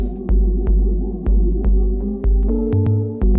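A sustained synthesizer chord with a shimmering, wavering chorus texture, rising through several tones with regular pulsing beats underneath, loud and alone.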